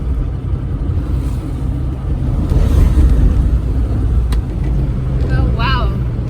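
A car drives over a rough, bumpy road on the way out of Sheffield, with a steady low rumble, thuds from the uneven surface and some wind buffeting, while people talk inside the car.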